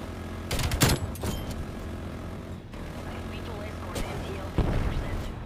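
Rocket explosions in the video game Call of Duty Cold War, two heavy booming blasts with rumbling tails over continuous battle noise, a speaker talking faintly beneath.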